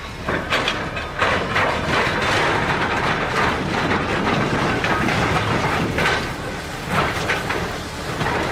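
A train rolls steadily past on a UK railway without stopping, its wagons and wheels clattering loudly and continuously the whole time, with rhythmic clickety-clack beats standing out.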